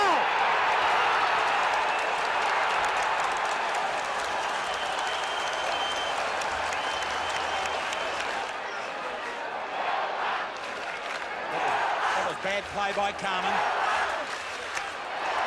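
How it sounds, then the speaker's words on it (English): A big Australian football crowd at Moorabbin roars and applauds after a goal in a 1980 St Kilda versus Essendon match, sustained loud cheering with clapping, under a commentator's voice. "the Moorrabin crowd going berserk"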